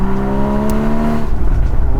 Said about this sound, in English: I personally get annoyed with the sport exhaust. It's really snap, crackle, poppy